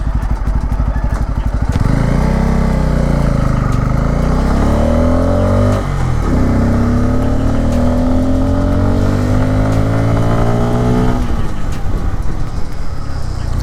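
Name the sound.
Bajaj Pulsar N250 motorcycle riding and accelerating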